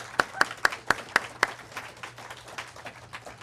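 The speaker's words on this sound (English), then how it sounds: "let's share a round of applause of gratitude for Jaya Lakshmi, please." A gathering audience applauds softly, starting with a few crisp, evenly spaced claps that spread into faint, scattered clapping.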